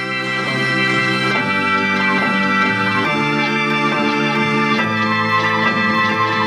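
A sustained strings sample processed with a ShaperBox Rhythm Glitch effect, its dense harmonic chords pulsing and chopping rhythmically with abrupt gated breaks, loud and continuous with no voices.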